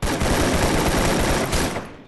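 Dense automatic gunfire in Free Fire rattling almost continuously for two seconds, loud and close with rapid overlapping shots before trailing off.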